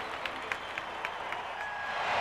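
A large stadium crowd at an Atlanta Braves baseball game in 1992 sends up a steady roar of cheering and applause, with scattered claps and shouts over a continuous wash of noise.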